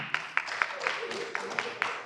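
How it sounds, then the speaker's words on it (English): A seated audience at a roundtable gives a brief round of applause, scattered claps mixed with crowd murmur, moderately distant and soft. "round of applause"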